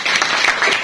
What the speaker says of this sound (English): Great, clap her.